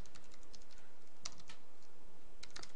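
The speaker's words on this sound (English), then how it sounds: "we just go ahead and type the class name and some object like BO" Code is typed on a computer keyboard. There is a steady, close run of soft key clicks with a few louder taps over a constant background hiss, and no voice.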